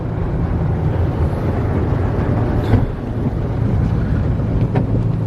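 Spinning brushes in a Sonny's/Belanger mini car wash tunnel, heard from inside the car as a steady loud churning rumble with sprays and thumps throughout.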